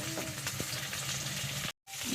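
Fish frying in a pan in a home kitchen, a soft continuous sizzle with small crackles and stirring clicks, briefly cut off near the end.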